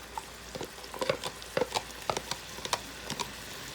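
Onions sweating with ground meat in a hot pan for lasagna, a soft steady sizzle broken by scattered crackles and stirring scrapes, fairly quiet and close, with no talking.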